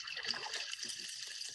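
A Labrador retriever splashing in a backyard pool in a wildlife garden: faint, distant watery sloshing and trickling, soft and continuous in the background.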